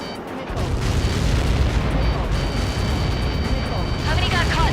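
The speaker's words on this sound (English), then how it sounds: "How many got caught in that explosion?" A massive explosion from a Helios projectile impact in the flight combat game Ace Combat 7: Skies Unknown erupts into a loud, sustained rumbling roar that fills the whole stretch, with a faint radio voice near the end.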